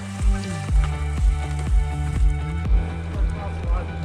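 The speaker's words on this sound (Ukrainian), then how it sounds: "І звук такий. Від тертя покришок з піском приємний." Bicycle tyres rolling over wet sand on a long night ride, giving a steady crunchy friction with regular soft rhythmic thumps, close and fairly loud.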